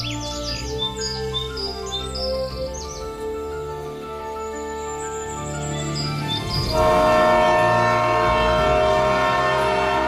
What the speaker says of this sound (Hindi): दूसरी तरफ ट्रेन न्यूयॉर्क सिटी पहुंच जाती है।